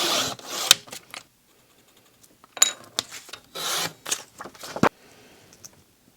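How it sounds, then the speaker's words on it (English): Purple paper being cut by hand to make a mat for a journal cover, heard as short rasping cutting strokes in uneven bursts, close and fairly quiet with pauses between. "I'm going to cut a mat with a frame that's about a centimetre wide"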